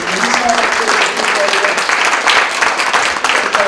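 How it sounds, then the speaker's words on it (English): Applause from a public meeting audience for a community leader from the NAACP, a dense burst of clapping close and loud, with voices mixed in. "let's give a round of applause to Pruitt from NAACP"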